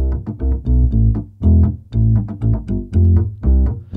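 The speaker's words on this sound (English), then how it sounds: "we also have this rockabilly upright bass as well. That sounds like this." A rockabilly upright bass sample library plays a quick, bouncing pattern of plucked notes with percussive slaps on its own, sounding somewhat boxy and punchy.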